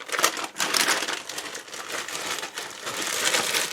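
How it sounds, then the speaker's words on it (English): Bags of dog food ingredients such as rice, apples and beans rustled and crinkled up close, a dense crackling plastic sound with short pauses, alone without talking. "sorry for the rustling"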